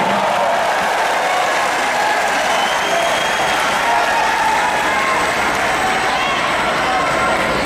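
A large crowd applauds at an Indonesian political rally, loud sustained clapping mixed with cheering that fills the space continuously, with a faint voice underneath.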